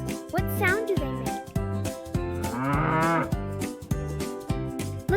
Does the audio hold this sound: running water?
no